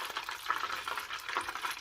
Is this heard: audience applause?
no